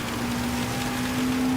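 Heavy rain in a Gran Turismo 7 race at Autopolis with GR4 cars, a steady dense hiss of rainfall over a faint engine drone, continuous throughout with no voices.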